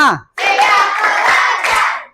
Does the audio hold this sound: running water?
no